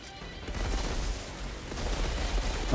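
Rapid gunfire from an enemy weapon in the video game Outriders, a dense continuous burst of shots with a steady clatter that swells louder toward the end, no talking over it.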